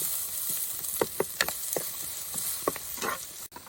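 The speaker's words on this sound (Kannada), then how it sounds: "ಒಂದು ಈರುಳ್ಳಿ ಸ್ವಲ್ಪ ಫ್ರೈ ಮಾಡುವ" Onion fries in a pan with a low, steady sizzle, punctuated by a series of sharp spatula taps and scrapes against the pan while it is stirred.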